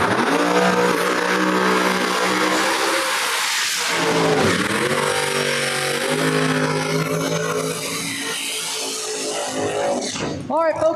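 Drag racing cars at a no-prep event at Flying H Drag Strip, engines revving hard and roaring down the strip with rising, sweeping pitch and a loud close pass near the end, under an announcer's talk.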